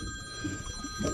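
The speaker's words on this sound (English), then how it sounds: "And now my phone rings." A mobile phone rings with steady high electronic tones over quiet low background noise, faint and brief, with no speech.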